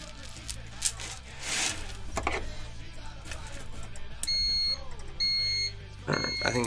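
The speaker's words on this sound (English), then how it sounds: "if you can hear the beeping, that's my foot massager." Steady electronic beeping from a foot massager in two long bursts partway through, over background activity and rustling, with high tones repeating at a regular pitch.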